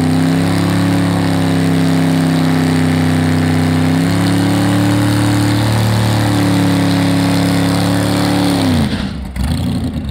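A car engine revs hard and loud with a steady, sustained roar while accelerating down a drag strip, pitch shifting gradually, then cutting off abruptly near the end; the car is fitted with a dry ice cold air intake.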